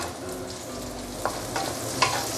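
Garlic and onion frying over lowered heat in a pan, a steady close sizzle with a few sharper crackles and stirring knocks, no talking.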